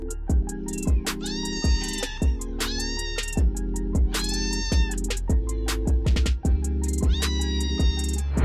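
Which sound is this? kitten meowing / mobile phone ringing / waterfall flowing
kitten meowing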